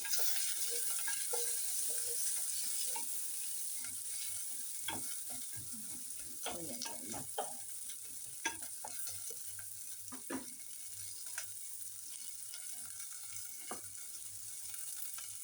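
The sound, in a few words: sautéing in a pan until raw smell goes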